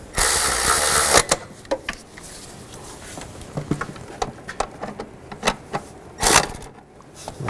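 Bolts on the passenger-side variable valve timing solenoid of a 2005-2015 Nissan are tightened. Scattered metallic clicks and taps come close by, with two brief loud rushing bursts at the start and near the end.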